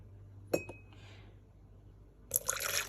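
Measured warm water for semolina crepe batter is poured into a glass container: a soft clink first, then a brief quiet pour, and a louder splashing fill toward the end, close and alone with no talking.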